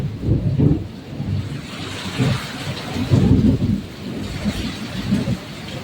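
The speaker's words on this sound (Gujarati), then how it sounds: "વીજળી ને વરસાદ ભૂકા પાડે" A heavy monsoon thunderstorm lashes down with dense, continuous rain while deep thunder rolls and swells in repeated waves, steady and enveloping with no voices.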